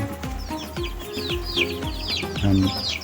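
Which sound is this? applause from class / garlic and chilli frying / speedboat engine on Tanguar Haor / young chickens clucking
young chickens clucking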